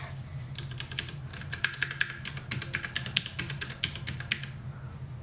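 Keys on a Ducky One 2 Mini mechanical keyboard are pressed close up in quick irregular bursts, crisp clacks and taps clustering into rapid runs with brief pauses between, no talking.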